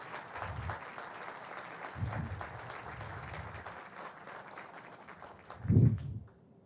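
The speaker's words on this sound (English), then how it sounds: "Maybe a round of applause for Ernie Green." Audience at the Omni Seaport Hotel groundbreaking in Boston applauding for Ernie Green, a soft, fairly distant patter of clapping held under low thumps, with a louder bump near the end before it fades out.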